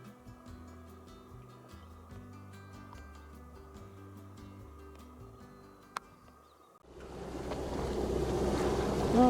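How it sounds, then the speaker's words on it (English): A sailboat cruising in Desolation Sound carries a low, droning hum with faint rhythmic creaks. Midway, a sharp click sounds, then strong wind noise and rushing waves swell loudly as the breeze picks up. "Oh, the wind's picked up nicely."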